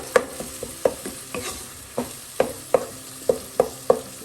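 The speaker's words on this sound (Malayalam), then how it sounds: "അതും കൂടെ ഒന്ന് മിക്സ് ചെയ്ത് ഉള്ളിയും തക്കാളിയും എല്ലാം നല്ലപോലെ ഒന്ന് വഴങ്ങുമ്പോൾ" Onions and tomatoes frying in oil are stirred with a spoon, giving a steady run of sharp scraping clacks against the pan every half second or so over a soft continuous sizzle, close by with no talk.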